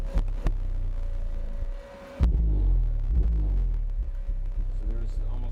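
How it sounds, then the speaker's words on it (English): WLLDSE HCY-12D2 car subwoofer powered by a Taramps HD3000 amplifier thumps out a test song as deep, throbbing bass that dips briefly, then returns heavier with rumbling low tones; a voice speaks over it. "So we're going to try my regular song first, and then we're going to try the burp tones after that."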